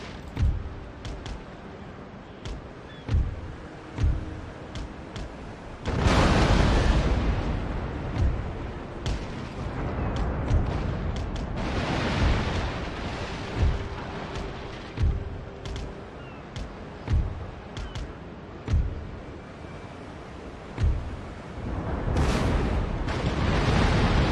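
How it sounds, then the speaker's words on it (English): Repeated booming blasts of ship cannons in Empire: Total War, sporadic thumps giving way to a dense barrage of cannon fire, then scattered shots again. "it just looks so nice when you see all of the cannons fire at once"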